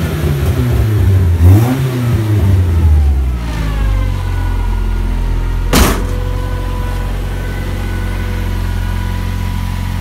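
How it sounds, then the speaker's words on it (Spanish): A Nissan Skyline R33 engine revs up and down loudly in a couple of throttle blips, then settles into a steady, close rumbling idle for the rest of the stretch. "vamos a darle un poquito de gas"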